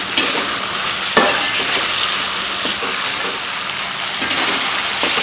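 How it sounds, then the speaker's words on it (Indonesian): Squid sambal with salted squid sizzling and frying in a pan while a utensil stirs it, a steady loud crackle with occasional scrapes, and no talking. "sekarang tinggal kita masak sampai bumbunya ini, si sambalnya ini tuh meresap ke asin cuminya ini dan airnya menyusut"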